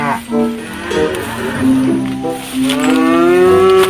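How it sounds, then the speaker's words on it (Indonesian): A cow moos loudly close by, a long drawn-out low call rising at the end, with a person talking over the start. "di sini masih ada suara sapi teman-teman"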